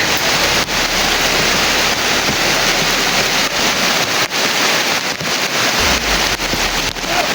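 A loud, steady roar of broadband noise like heavy rain pouring down, with gusty wind buffeting the microphone and a few brief dips, continuous and close with no voices.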